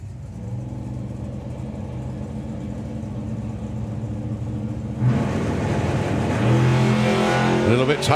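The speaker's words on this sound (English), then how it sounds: "A little bit tamer on the launch this time for Graham, but it's looking quick." Drag racing car launching down the strip at a national finals event, a loud steady engine roar that surges and builds around the five-second mark, with an announcer talking over it.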